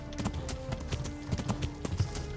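Horse hooves clip-clop steadily in the medieval game Kingdom Come: Deliverance, a close, continuous run of uneven hoofbeats over a low rumble of game ambience, with no talking.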